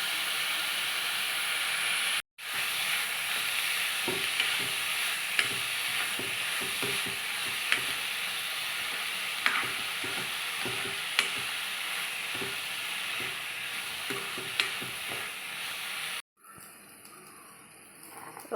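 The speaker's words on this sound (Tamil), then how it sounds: "ஓகே, வெங்காயம் கொஞ்சம் நல்லா வதங்கிருச்சுப்பா." Onions sautéing with curry leaves and salt in a pan, a steady broadband sizzle running throughout with regular light scrapes of stirring, a brief gap early on and a cut near the end.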